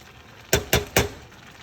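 Rice cooking in a pot is stirred with a utensil, giving three sharp clinks and scrapes in a quick, even rhythm against a quiet kitchen background.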